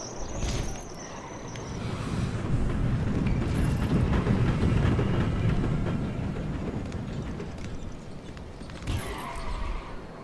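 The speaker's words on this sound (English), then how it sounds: "He didn't even get hit by the train. He just got swallowed by it." A train in the video game Wrestling Empire rushes through with a swelling, rumbling roar that builds over several seconds and then fades, with a few sharp clanks near the start and end.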